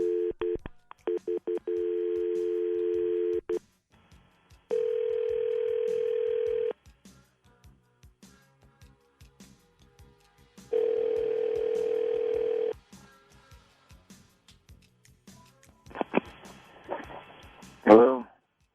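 A telephone dial tone holds steady, then breaks into bursts of touch-tone dialing beeps, followed by another tone and ringback as a call is placed to a woman's husband; a voice comes in near the end.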